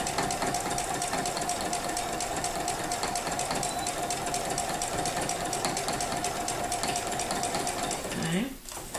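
A sewing machine stitching free motion quilting arcs, a steady fast mechanical hum and clatter running continuously up close, stopping near the end with a brief shift in pitch.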